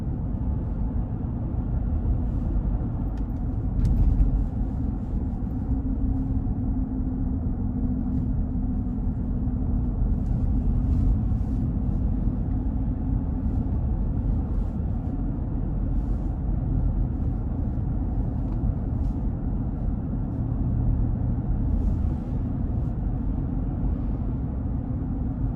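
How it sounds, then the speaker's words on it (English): Steady, continuous low engine and road rumble from a 2016 GMC Yukon with an 8-speed automatic and 122,000 miles, heard from inside while it drives and accelerates, with no talking. "And even with this 8-speed automatic, still really good acceleration when I put my foot down on it."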